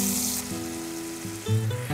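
Whole cinnamon, black pepper and cumin frying in hot oil for a curry base, a steady close sizzle with faint crackle and a louder burst of spitting near the end, no voices.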